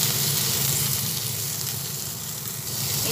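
Garlic and tomato frying together in a pan for a peyajkoli and eggplant curry, a steady close sizzle with constant hiss and crackle, no voices.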